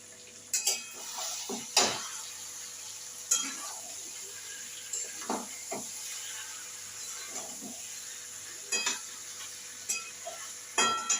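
A spatula stirs potato curry (aloo dum) in a pan, giving sharp scrapes and knocks at irregular intervals over a faint sizzle, close and clear.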